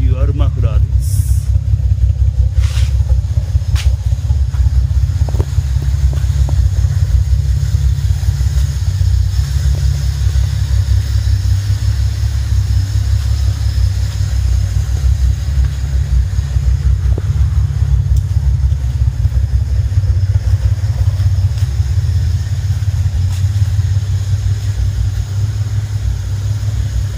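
A Nissan S30Z Fairlady Z with dual mufflers runs steadily at idle, its deep, loud exhaust rumble continuous and close throughout, with a few faint clicks early on.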